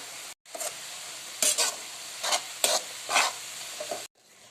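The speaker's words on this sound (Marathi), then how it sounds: "रवा टाकून मस्तपैकी मिक्स करून घेतलेला" Semolina is stirred into a coriander mixture in a wok, with about six scraping strokes at an uneven pace over a faint, steady sizzle, close and with no voices.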